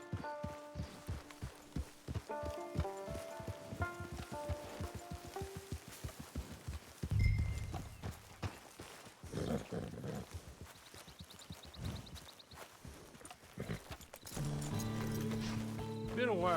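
In the video game Red Dead Redemption 2, horse hooves clop in a steady walking rhythm, mixed with game music and ambient sound, with a brief louder thump partway through.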